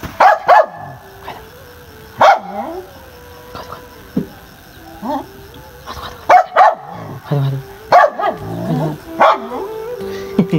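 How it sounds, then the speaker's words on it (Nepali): A dog sitting on guard outdoors barks in loud, sharp bursts at irregular intervals, with yips and whimpers between them and some background voices. "आफ्नो ड्युटी गर्दैछ बसी बसी भुक्दिन्छ"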